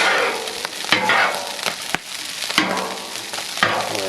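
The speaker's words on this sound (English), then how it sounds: "You'll notice when you cook it on the griddle top, it definitely explodes." Rice frying on a flat griddle top for a teriyaki salmon stir-fry, giving a loud, dense, close crackling sizzle broken by sharp popping bursts as grains burst and jump, with no voices.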